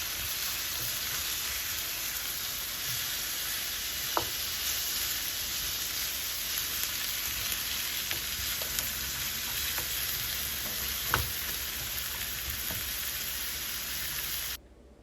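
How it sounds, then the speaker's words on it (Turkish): Minced meat and onions frying and being stirred in a pan, a steady close sizzle throughout with a few faint scraping clicks from stirring, no talk, ending abruptly. "Kavrulmuş kuru soğanların üzerine 60 gram kıyma eklenir ve soğan ve kıyma birlikte kavrulur karıştırarak"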